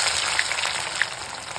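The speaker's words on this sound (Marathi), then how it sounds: "त्याच्यातलं तेल तापत ठेवलेलं आहे त्याच्यामध्ये आता कांदा टाकून घ्यायचा तळून घ्यायचा आहे कांदा" Onion frying in hot oil in a pan, part of a soybean pulao: a close, steady crackling sizzle with a couple of sharper pops, alone and without talk.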